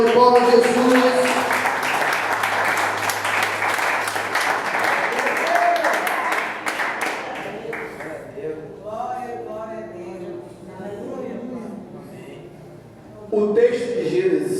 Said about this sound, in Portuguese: Quem crê, dá uma salva de palmas a Jesus